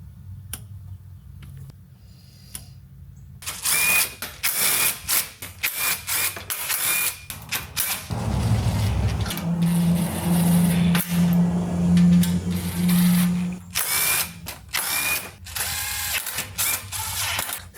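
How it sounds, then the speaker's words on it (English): Torque wrench ratcheting on aluminum radiator bolts of a 1999–2005 Mazda NB Miata, tightened to 16 foot-pounds: a long run of close, rapid clicking with a sharper burst in the middle, no talk. "I'm torquing this down to 16 foot-pounds."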